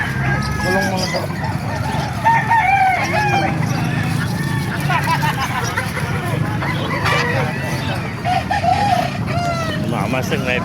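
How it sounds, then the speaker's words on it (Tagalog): Roosters crow repeatedly and chickens cluck amid a busy outdoor chicken market in Calumpit, Bulacan, with overlapping bird calls and a constant crowd murmur and talking throughout. "May ganda ng mga manok."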